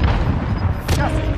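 A grenade goes off in a first-person shooter game: a sharp blast bursts out mid-clip amid rumbling low gunfire and battle noise, with voice chat mixed in.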